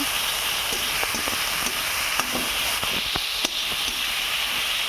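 Onions frying in hot oil with turmeric and salt give a steady, loud sizzling hiss, dotted with sharp crackles and pops throughout.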